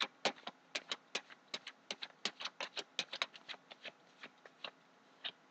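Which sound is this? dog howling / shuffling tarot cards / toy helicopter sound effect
shuffling tarot cards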